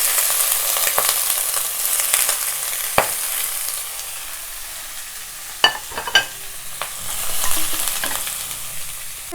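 Fatty smoked pork fries in a dry pot with no oil, making a soft, constant sizzle close by. A few sharp scrapes and knocks of a stirring spoon rise above it, clustered toward the middle.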